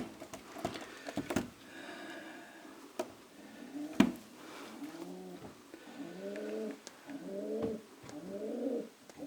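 Soft, repeated coos from Janssen racing pigeons rise and fall in short phrases, with a few sharp knocks and rustles in between, fairly close.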